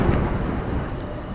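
Deep rolling thunder rumbles steadily in A Juggler's Tale, a low continuous storm roar mixed with faint rain hiss, with no voices present.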